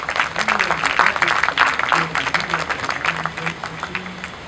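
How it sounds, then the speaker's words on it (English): An audience applauds at a poetry prize ceremony, moderately loud clapping mixed with a speaking voice over it for a few seconds. "let's also have a round of applause for two very significant awards"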